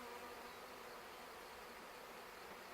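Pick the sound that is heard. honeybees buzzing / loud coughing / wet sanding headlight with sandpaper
honeybees buzzing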